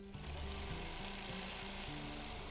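A sewing machine free-motion quilting across a pieced seam, its needle hammering in a fast, steady mechanical rhythm, close and fairly quiet with no voices.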